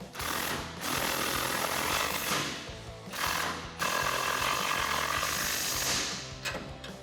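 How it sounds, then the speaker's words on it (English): A power impact tool drives bolts on the Barricade HD rear bumper of a 2019-2021 Silverado or Sierra 1500, with loud sustained rattling bursts and a few short pauses between them. "With your 18mm wrench and 19mm socket,"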